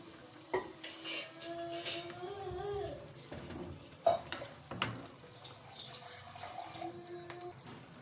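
Fried potato pakoras come out of a pan amid light clinks and scrapes of utensils against cookware, with some faint sizzling behind, close and fairly quiet.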